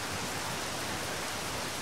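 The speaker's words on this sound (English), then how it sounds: "Oh god, and it's raining too." Steady, dense rainfall in the survival shooter Zero Sievert, a continuous even wash of drops filling the space, loud and unbroken with no other sounds.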